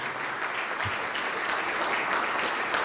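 Applause from a church congregation rises and holds for a few seconds, a moderately quiet, even wash of clapping heard from a distance.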